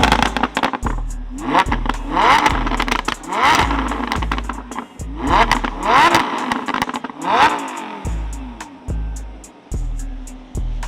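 A custom-tuned Lamborghini Huracan Spyder engine revs loudly nearby in a series of sharp repeated blips. Each rev rises quickly and drops back, with crackles and pops on the overrun between them.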